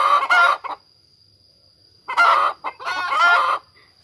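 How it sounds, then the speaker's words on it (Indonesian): A hen clucks and squawks before laying an egg, two loud bursts separated by a quiet pause, close by, with no talking. "cara ayam kalau misalnya ada yang mau bertelur gitu"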